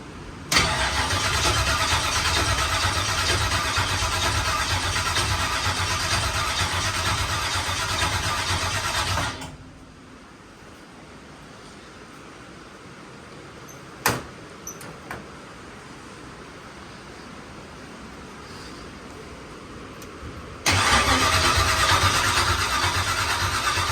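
A newly installed boat outboard motor cranks and runs loudly for several seconds, cuts out to a quieter stretch with a couple of sharp clicks, then fires up and roars again near the end.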